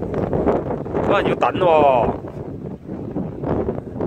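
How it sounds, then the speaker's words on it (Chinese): Strong gusty wind buffets the microphone at a lakeside fishing spot at a resort in Huizhou, a low rumbling roar that swells and fades under nearby conversation. "而家好大风啊！"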